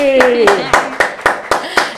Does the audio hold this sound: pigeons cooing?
no